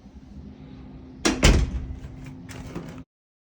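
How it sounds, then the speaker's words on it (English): A closet door in a home swings open with a sudden clatter and rattle, then a softer knock and settling noise, heard up close with no talking. "Open the door here."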